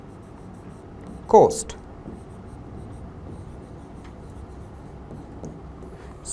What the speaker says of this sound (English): I am writing here Porbandar